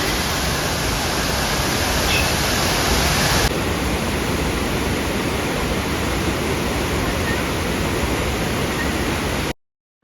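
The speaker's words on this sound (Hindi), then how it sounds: "अभी तुरंत हम लोग को एक और वाटरफॉल मिला जिसका नाम है चियापाड़ा वाटरफॉल।" The massive Cheeyappara waterfall near Munnar rushes in a loud, dense, continuous roar of falling water that fills the whole scene, ending abruptly.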